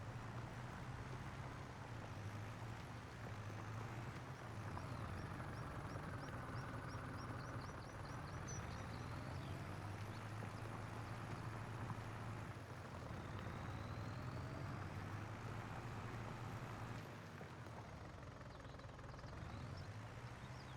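Tractor engine in the Farming Simulator 25 video game on a farm, a steady low droning rumble held loud and continuous for about twenty seconds with slight swells and no talk.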